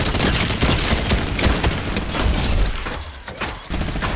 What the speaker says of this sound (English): if you just fire it, this thing is not gonna be as fired as long as the sideways minigun due to its slower fire